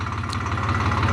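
Farm tractor engine idling at a Republic Day tractor parade held by protesting farmers, a steady low rumbling drone with a rhythmic pulse that stays loud and close throughout.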